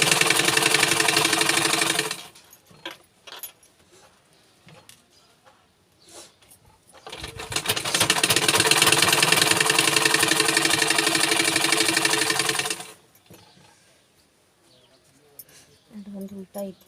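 A sewing machine stitches a design blouse in two long, loud, steady runs, one brief at the start and one lasting about six seconds, separated by quieter handling noises.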